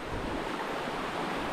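Rushing river water in a deep river, a dense, roaring wash of turbulent flow that stays loud and constant throughout, with no speech over it.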